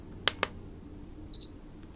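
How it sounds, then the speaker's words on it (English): A thermometer gives a short, faint electronic beep during an ASMR temperature check, preceded by two soft clicks in near silence. "Perfect, you'll hear one more beep."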